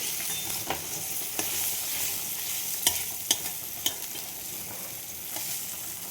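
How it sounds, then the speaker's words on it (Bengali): Eggplant slices frying in a pan give off a steady, bright sizzle, broken by a few sharp clicks and taps as they are stirred. "দেখো বেগুনগুলো ভাজা হয়ে গেছে, আমি এবার নামিয়ে ফেলবো বেগুনগুলো।"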